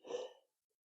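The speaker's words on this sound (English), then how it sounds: "He's sneezing." A dog sneezing once indoors, a short, faint, breathy snort that lasts under half a second and is then followed by silence.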